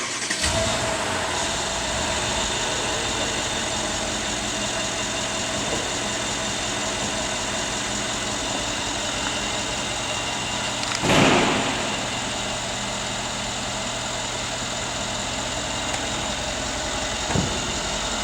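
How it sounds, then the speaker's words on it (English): A 2013 Mercedes-Benz SL550 engine idles steadily with a low, even rumble, broken by a couple of brief clunks and bumps. "You can leave the engine running."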